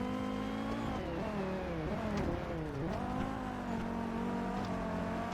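Race car engines in a Forza Motorsport R-GT class race drone and rev steadily, pitch rising and dipping with gear changes, a continuous loud engine roar with no talking.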